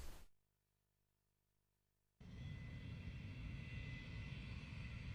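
A propeller airplane engine in the video game Maken X, a steady, loud droning roar that cuts in abruptly after a brief quiet gap and holds evenly.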